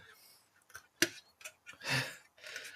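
Several sharp clicks and snaps from plastic parts of a 1/8 scale 1966 Batmobile model kit being pushed into place, scattered irregularly and close up, with brief rustling between them.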